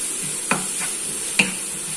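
Onion sautéing in a pan: a steady close sizzle with two sharp stirring scrapes about a second apart, no voices.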